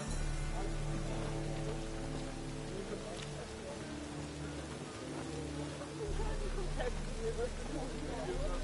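Steady rain falls across a scene in The Witcher 3 on PS4, a dense continuous wash with a low engine-like rumble beneath and faint voices, holding fairly constant before swelling slightly near the end.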